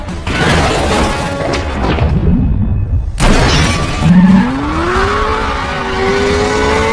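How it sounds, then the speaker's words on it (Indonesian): A car in a film chase brakes hard and overturns, heard as a loud burst of crashing and shattering, a brief hush, then another heavy impact followed by a rising tyre squeal and engine whine. "mengerem dadakan sampai membuat mobil mereka terguling"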